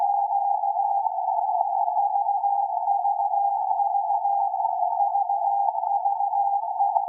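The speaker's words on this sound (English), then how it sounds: "So now the world can hear that SAQ is in the air, we are transmitting." Steady, unbroken single-pitch tone of the SAQ Grimeton VLF transmitter signal on 17.2 kHz, picked up by an RSP1A receiver and heard as a constant beep with a slight flutter and no pauses.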